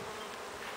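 Honey bees buzz steadily at the entrance of a hive, a dense, continuous droning of many insects close by with no voices.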